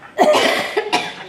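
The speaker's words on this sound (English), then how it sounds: "Here comes a cough, sorry." A single close, harsh cough bursting out in a couple of quick spasms, then trailing off.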